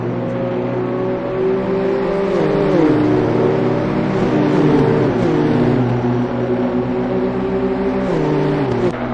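BMW M2 CS race cars at full throttle on the Brands Hatch circuit, engines droning loud and close with gear changes and shifting pitch as they chase each other on a race's final lap, continuous with no talking.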